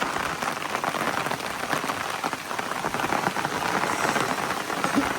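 Heavy rain pours steadily over a hill village, a dense, loud, unbroken hiss of drops on surfaces throughout.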